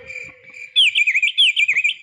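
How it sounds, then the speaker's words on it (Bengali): Crickets chirp at night: a softer steady trill gives way to two loud bursts of rapid, warbling pulsed chirps, close and alone. "চতুর্দিকে ঝিঝি পোকা যেন ডাকছে।"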